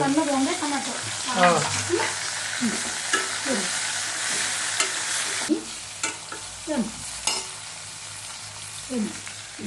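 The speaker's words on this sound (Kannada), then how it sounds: "ಈಗ ಇದ್ರಾಗ ಏನು ಮಾಡೋದು ಟೊಮೆಟೊ ಹಾಕೋದು ಟೊಮೆಟೊ ಹಾಕೋದು" Tomatoes sizzle and fry in oil in a pan for a North Karnataka-style green gram curry, with repeated scraping stirs of a spatula cutting through a continuous close hiss.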